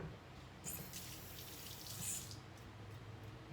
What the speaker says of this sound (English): I cannot emphasize how much I wash my hands when I'm cooking